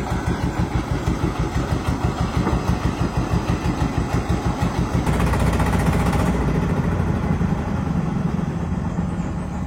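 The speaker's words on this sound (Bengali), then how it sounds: "শেষ পর্যন্ত ট্রলার স্টার্ট দিতে হলো" A trawler boat's engine is started and settles into a loud, close, steady running chug with a rapid regular pulse, growing slightly rougher partway through; no one speaks.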